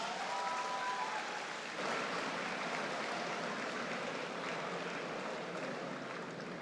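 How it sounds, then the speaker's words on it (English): Audience at a university convocation ceremony applauding a guest, a steady dense wash of clapping from a large hall crowd, continuous and even throughout, with no talk over it. "Please give a big round of applause."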